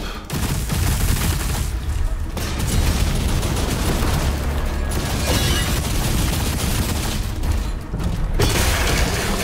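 Continuous heavy gunfire and booming blasts from a weapon in the video game DOOM: The Dark Ages, loud and dense throughout with no letup.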